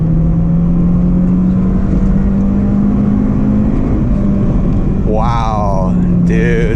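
A Honda K20 engine in an Acura RSX base coupe pulls hard at high revs on a rough backroad, a loud, steady droning engine note filling the cabin, with a person speaking briefly near the end.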